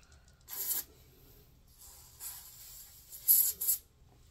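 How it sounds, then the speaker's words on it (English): Contact cleaner hisses from a spray can onto a solder joint on a Leslie organ cable in three short bursts, the last a quick double spray, with quiet pauses between. "So I just spray that with the contact cleaner."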